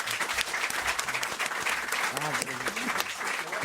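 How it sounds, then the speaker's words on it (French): A studio audience applauds steadily on a French television talk show, a dense wash of clapping. A voice talks over it throughout. "On vous remercie, Pierre Bénichou, on vous applaudit"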